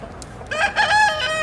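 A rooster crows once on a farm, a single clear, fairly close call rising after a short quiet start and holding for about a second, with no talk over it.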